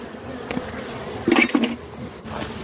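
Honey bees buzz around a handmade wax comb frame at an open hive, a steady close hum with a few louder swells as bees pass near.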